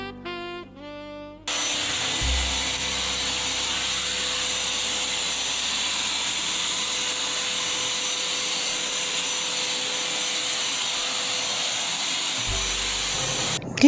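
A Prestige wet and dry vacuum cleaner switches on after a short beeping sequence and runs with a loud, steady whining roar, its suction tone shifting slightly near the end.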